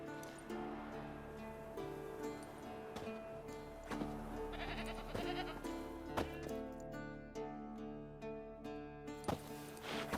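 A goat tied to a stake bleats repeatedly as forktail bait in The Witcher 3, its calls standing out over a layered fantasy music score that plays steadily throughout.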